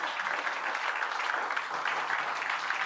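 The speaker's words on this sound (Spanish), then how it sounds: "¿por qué no le das un fuerte aplauso al Señor en esta mañana?" A church congregation applauding during a Sunday morning service, a steady, moderately distant wash of many hands clapping without pause.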